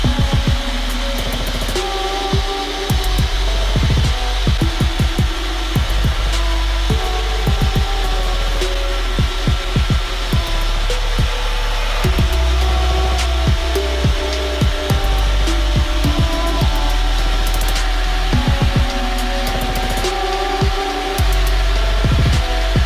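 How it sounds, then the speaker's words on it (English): Mini rotary polishing machine with a cone attachment and medium compound working the paint of a Ford Focus RS Mk2, a loud continuous motor drone with frequent scuffing, clattering contact noises over a steady hum. "I do personally prefer this mini rotary machine"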